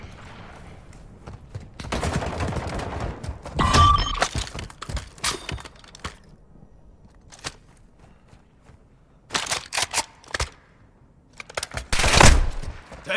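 Gunfire in Call of Duty: Warzone 2.0 DMZ: clustered volleys of sharp shots and cracking bursts, separated by quieter gaps and led by a heavy flurry, with faint voices now and then.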